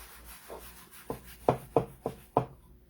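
Rubbing chalk paste off a wooden three-legged riser with a cloth: about six distinct rubbing strokes, growing firmer and louder toward the end, close and alone with no talk.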